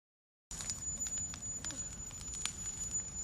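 Damp campfire wood burns with soft, irregular crackles and pops, quiet and close, with scattered sharp snaps over a faint background hiss.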